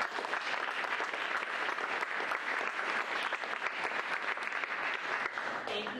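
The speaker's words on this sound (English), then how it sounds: "Let's give everybody a round of applause." A school board meeting audience claps in sustained, dense applause that holds steady for several seconds before fading near the end.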